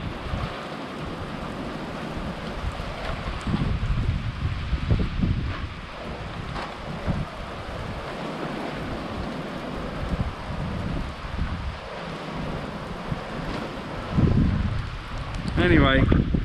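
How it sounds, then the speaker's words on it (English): Strong wind roars through old pine trees in gusty surges, a broad rushing wash with buffeting against the microphone, while someone talks over it at times. "The old pines are getting quite a thrashing today."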